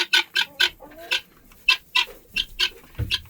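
Chickens and guinea fowl on a farm cluck and squawk in a quick series of short, sharp calls, close by and fairly loud, with brief gaps between bursts.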